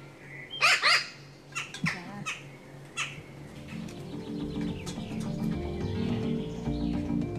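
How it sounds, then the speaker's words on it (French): An aviary holding up to 70 New Caledonian crows and jackdaws gives a few sharp, loud calls early on, then softer scattered chirps over a rising low background rumble. "Les volières de la biologiste et éthologue Auguste von Bayern abritent jusqu'à 70 corbeaux"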